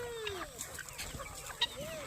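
Chickens on a farm clucking near and far, with a drawn-out rising call and a sharp squawk near the end, no talk over them.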